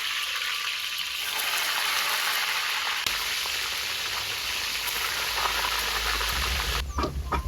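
Tempeh frying in hot oil, a dense continuous hiss and sizzle that stays loud and close throughout, with no talk.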